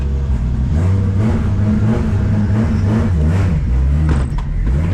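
Nissan S13 fitted with a 2JZ engine drives and accelerates, its deep, loud engine drone rising and falling steadily from inside the car with continuous road and drivetrain noise.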